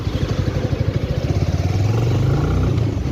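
A Bajaj Avenger Street 220 motorcycle leaning through corners, its engine giving a loud, close, pulsing thrum that rises into a steadier drone as the rider pulls out, with no talking.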